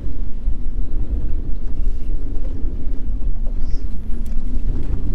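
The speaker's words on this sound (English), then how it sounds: "The wind is just too great." Strong wind on open water buffets a fishing boat, a loud continuous roar and rumble of gusts hitting the microphone with no talk.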